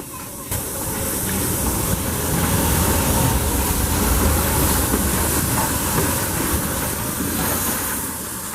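A train pulled by a 1946 Baldwin Locomotive Works steam locomotive gives a steady loud roar and hiss, with faint rail clatter running continuously throughout.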